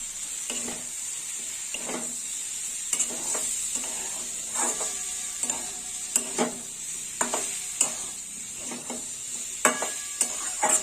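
Fried brinjal and potato added to a pan of frying jukti flowers, a steady sizzle with repeated scraping stirs of the spatula at a regular pace.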